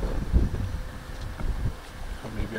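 Heavy night wind blowing outdoors at a cooking fire, a steady broadband rumble of buffeting gusts against the microphone that swells and eases throughout.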